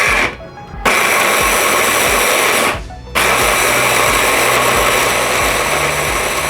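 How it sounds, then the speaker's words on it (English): A kitchen blender whirs loudly while blending chicken wrap sauce ingredients, a steady high-pitched motor whine that cuts out briefly twice and then resumes at full power. "once you put everything in your blender, you just have to blend the whole thing together"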